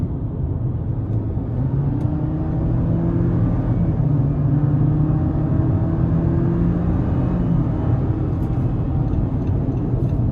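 A 2026 Jeep Compass TrailHawk with a 2.0-litre turbo engine pulls hard out of a corner, a steady, loud cabin drone whose engine tone climbs gradually, with road rumble beneath and no speech.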